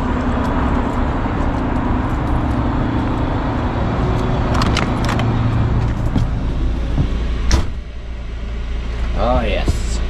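A diesel heater runs inside an RV with a generator going, giving a steady low whirring drone with a faint voice and a few knocks and clicks over it.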